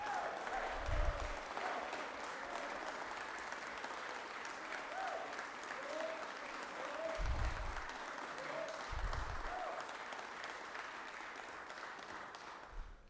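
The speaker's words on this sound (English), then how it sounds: "ask for another round of applause for the hardworking Georgians" Sustained applause fills the Georgia Senate chamber, a steady wash of many hands clapping throughout, with a few low thumps and faint murmuring underneath.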